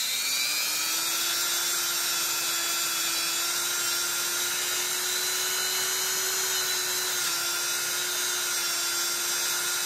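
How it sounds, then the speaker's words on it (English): A Dremel rotary tool cutting open a plastic part gives a continuous high-pitched whine that holds steady and loud from start to finish, with a slight dip in pitch partway through. "with the Dremel I'm gonna open the part right here."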